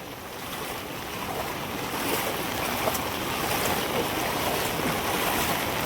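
Floodwater of the swollen Girna river rushing past near a temple and a submerged bridge, a loud, continuous broadband roar with wind buffeting the microphone and no voices.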